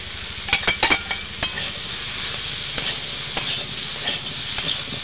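Vegetables are stir-fried in a pan with mustard-cumin-green chili paste and ginger paste for shukto, giving a steady hiss and sizzle with a cluster of spatula scrapes near the start and scattered ones after.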